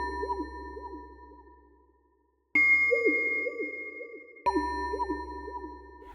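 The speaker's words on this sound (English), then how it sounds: "what you're hearing is that sine wave on the LFO being applied to the FX amount parameter" Warped synth tones from the RingsFX app on iOS, a sine wave LFO sweeping the effects amount so the ringing pitched notes wobble in repeating chirps; three struck notes decay slowly, with a brief silent gap after the first.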